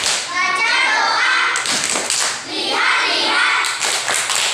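A class of children clap a rhythmic learning chant, loud bursts of clapping mixed with young voices calling out in unison, close and busy.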